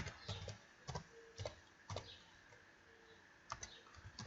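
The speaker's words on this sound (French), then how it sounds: "On va taper cette commande-là, apt-get install postfix." Keys are typed on a computer keyboard to enter a terminal command, soft irregular clicks in short bursts with brief pauses, close but quiet.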